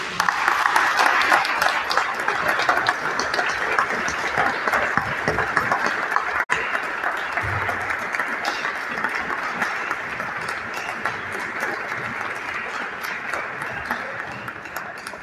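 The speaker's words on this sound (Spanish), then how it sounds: "Un fuerte aplauso a la señora Laura Rodríguez." Sustained audience applause at the AICA Costa Rica art critics' award ceremony, many hands clapping steadily for about fifteen seconds at an even level, with faint crowd murmur underneath.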